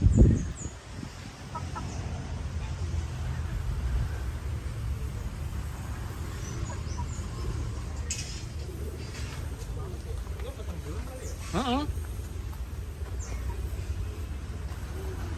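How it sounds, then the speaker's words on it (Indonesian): Chickens cluck and call inside an old building, formerly the Semarang Joana Stoomtram Maatschappij head office, where Muscovy ducks are also kept. The birds sound moderately close amid steady background noise, and people talk throughout. "Ayam dan entok."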